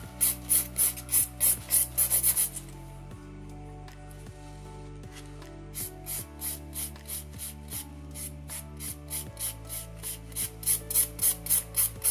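Nail file rasping back and forth on an acrylic stiletto nail, quick rhythmic strokes in bursts with a pause in the middle, close and fairly soft, over quiet background music.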